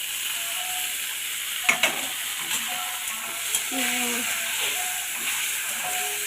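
Tomato and chopped chili, salted, fry in a pan with a steady hiss. A spatula stirs and scrapes now and then, and faint tones sit in the background.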